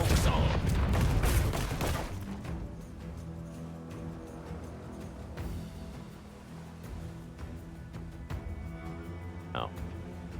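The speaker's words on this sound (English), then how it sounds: "Let's hear those cannons." Ship cannons firing in the video game Rogue Waters, a dense burst of booming blasts at the start that fades into a game soundtrack with scattered smaller impacts.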